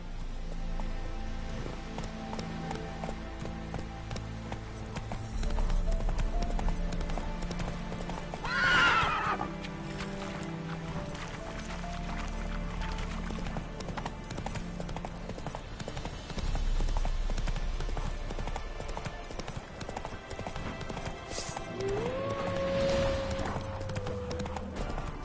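Panicked horse in The Witcher 3 game, hooves clip-clopping at a gallop throughout with loud, shrill neighs and whinnies bursting out near the middle and again near the end, over a steady game background.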